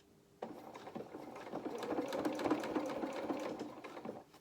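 A sewing machine stitching a jacket seam starts abruptly and runs in a steady, close, rapid mechanical whir with rhythmic needle clatter, slowing slightly near the end; no talking.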